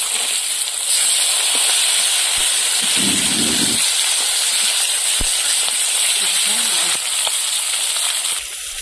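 Flipped catla fish pieces keep frying in hot oil with a loud, continuous close sizzle, broken only by a few faint knocks of utensils before it eases slightly at the end.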